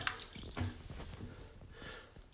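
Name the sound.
apple dropped into water, splash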